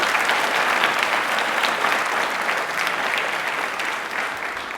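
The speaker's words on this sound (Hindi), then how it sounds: "तालियां बजाना चाह रहे हैं भाई, तालियां बनती है फिर तो।" Loud, sustained audience applause at a televised quiz show, dense clapping from many hands filling the whole stretch and easing slightly toward the end.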